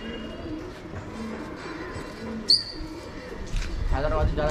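Pigeons make soft, low cooing and murmuring sounds close by, with a brief sharper chirp partway through. A rumbling rustle swells toward the end.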